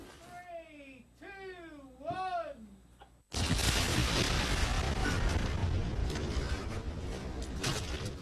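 Controlled explosion test inside an airplane cabin: a narrator speaks for about three seconds, then a sudden, very loud broadband blast erupts into a sustained roaring rumble that fills the rest of the clip.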